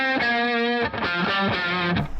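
Heavily distorted electric guitar plays a short melodic metalcore riff in a minor key, a sustained note followed by quick picked notes, loud, close and solo.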